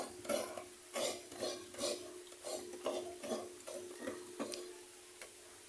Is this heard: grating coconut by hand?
yes